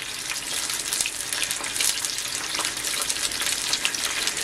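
Pieces of food frying on one side in a pan of hot oil, a loud, dense, continuous sizzle and crackle close by, with no speech.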